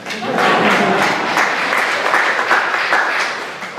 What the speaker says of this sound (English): you can clap, it's fine.